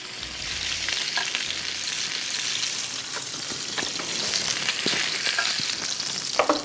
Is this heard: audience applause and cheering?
no